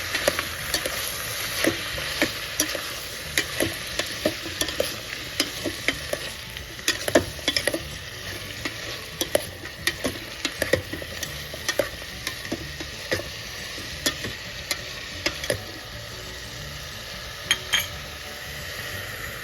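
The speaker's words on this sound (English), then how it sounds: "Saute the ingredients well." Onions and tomatoes sautéing in a pan with celery for soupy khichdi, a steady close sizzle broken by frequent sharp scrapes and clinks of a spoon stirring against the pan, with no talk.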